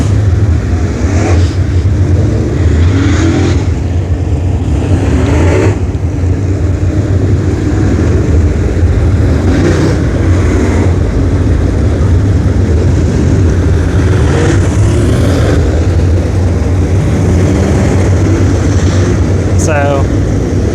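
Race cars circling the dirt oval at Brownstown Speedway on fan appreciation night, engines roaring and revving continuously and loud, rising and falling as cars pass, under an announcer's steady commentary.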